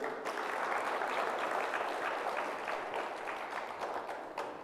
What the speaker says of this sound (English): So give a round of applause again.